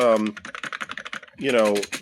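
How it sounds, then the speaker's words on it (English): Typing on the full-size keyboard of an Atari XEGS console, a quick run of light clicking keystrokes heard close up, with brief voice-like sounds at the start and end. "This is a good keyboard for learning how to program and to type stuff up."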